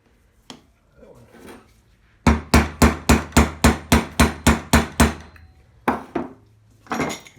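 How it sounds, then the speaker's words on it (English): A hammer strikes a Honda CT90 engine case about a dozen times in a steady, rapid rhythm to break the seal. The sharp metallic blows are close and loud, with a couple of isolated knocks before and after. "The idea is the hammer breaks the seal or gives it"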